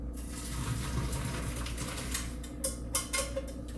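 Water from a pot of pasta pours out in a continuous gush while it drains, followed by a few sharp metallic clanks of the pot and strainer near the end.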